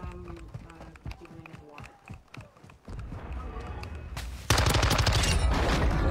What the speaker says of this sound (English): Damn, that gun is loud.